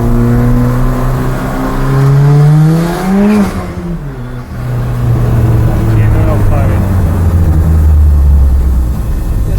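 A loud car engine runs up close, its pitch climbing and dipping as it revs and pulls through the gears while driving.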